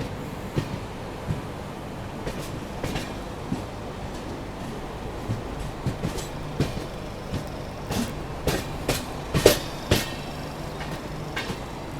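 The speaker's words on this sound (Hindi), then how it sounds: "धीमे धीमे स्किप कर रही है ट्रेन" Naharlagun–Guwahati Shatabdi Express Vistadome rolling slowly through Kamakhya Junction, with a steady rumble heard from inside the coach and rhythmic clacks of wheels over rail joints, growing sharper toward the end.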